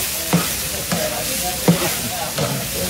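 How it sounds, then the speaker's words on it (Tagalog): Rice being stirred into garlic frying in a pan for sinangag, Filipino garlic fried rice, with steady sizzling beneath four distinct scraping stirs spaced roughly half a second to a second apart. "Lagyan na natin konti yung kanin dito para maano natin, mahalo natin."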